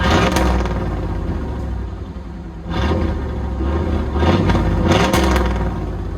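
A 1991 GMC Sierra 1500 5.7L V8 with a Flowmaster Outlaw exhaust revs loudly in repeated surges, a deep rumbling roar rising and falling close by.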